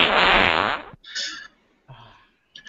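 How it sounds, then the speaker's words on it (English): A soundboard fart effect blasts loud and long, then breaks into a few shorter sputtering bursts with gaps between them. "It's a good fart"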